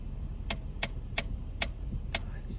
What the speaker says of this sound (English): this brake here, the emergency brake, I can get 8 clicks out of that